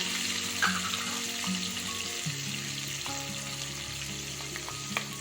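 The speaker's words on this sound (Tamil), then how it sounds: "நல்லா வெங்காயத்தை ஒரு 2 நிமிஷம் நல்லா வதக்கி விடலாம்." Onions with green chillies sautéing in a pan for banana flower biryani, a close, steady sizzle with faint stirring scrapes and a few soft clinks.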